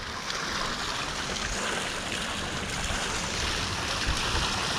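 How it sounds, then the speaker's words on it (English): A small water feature at Eiffel Tower Park splashes and trickles in a steady, dense wash of running water, close by and alone. "Nice little water feature."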